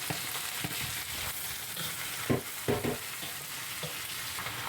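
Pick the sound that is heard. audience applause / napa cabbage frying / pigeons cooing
napa cabbage frying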